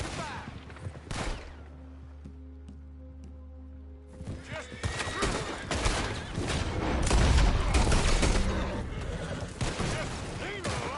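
Heavy gunfire aimed at an incoming coach in the video game Red Dead Redemption 2, with repeated loud shots building over several seconds, mixed with horse sounds and hoofbeats amid a busy outdoor battle.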